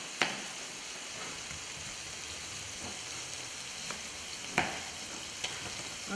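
Pork and onions fry in a pan with a steady, fairly faint sizzle, broken by a few sharp clicks and knocks of utensils against the pan, with no one speaking.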